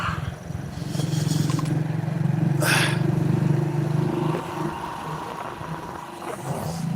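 A motorbike engine hums and rumbles steadily on a cold, foggy winter morning, with a brief louder burst in the middle before easing to a lower drone.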